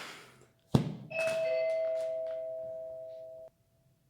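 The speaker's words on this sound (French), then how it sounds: "nous avons été interrompus par la sonnette" A doorbell rings once indoors, a sharp thunk followed by a clear sustained electronic chime tone that rings steadily for about three seconds before cutting off, alone with no talk.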